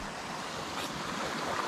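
Sea waves washing onto a shore, a steady close wash of surf with some wind noise, heard alone without talk.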